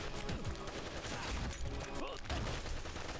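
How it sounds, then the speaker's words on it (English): Video game gunfire from Wanted: Dead rattles in dense, continuous volleys of rapid shots layered over game music and effects, loud and unbroken throughout. "Can you stop shooting me?"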